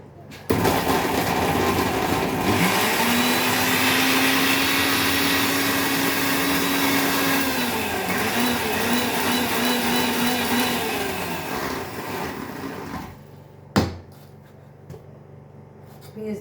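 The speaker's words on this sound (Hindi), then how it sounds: "पीस दिया मसाला।" An electric mixer grinder whirs loudly and steadily while grinding spice masala, with a rising motor tone that eventually winds down and cuts off, followed by a short clunk.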